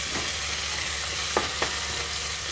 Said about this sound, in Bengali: এবার আমি নুনটাকে ভালো করে মিশিয়ে নেবো।